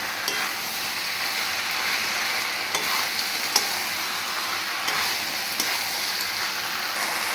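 Potatoes and pointed gourd stir-fry with spices in a pan for a prawn dish, a steady close sizzle broken by regular spatula scrapes and occasional metallic taps.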